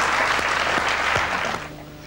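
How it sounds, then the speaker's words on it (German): A studio audience gives a short burst of loud applause for a guest on a 1990s television show, the clapping thinning and fading toward the end. "Mit einem schönen Applaus."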